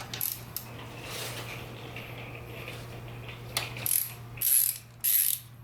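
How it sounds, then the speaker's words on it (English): A ratchet wrench removing a bolt from the far side of an FJ-09/MT-09 Tracer motorcycle, quiet clicking and metallic handling followed by several brisk ratcheting bursts near the end, close and with no talk. "Okay, take out the bolt from the other side."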